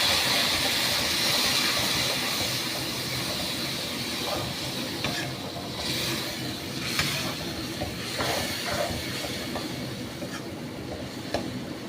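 Dry spices sizzle and hiss in a pan as a little water is added for a mourala fish curry, a steady close sputter with faint stirring scrapes throughout.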